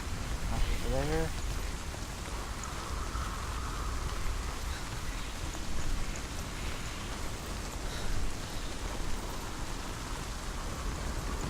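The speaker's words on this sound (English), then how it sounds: "Oh, it's pouring rain again." Heavy pouring rain in the video game Hellblade: Senua's Sacrifice, a steady broadband wash of downpour that continues throughout, with a brief low rumble near the start.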